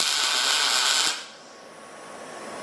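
A welder lays down small tack welds, a loud crackling hiss for about a second that cuts off abruptly, leaving a faint background hum.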